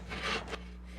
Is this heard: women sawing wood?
yes